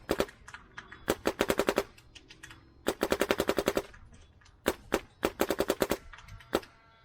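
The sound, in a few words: Dye Matrix DM9 paintball gun shooting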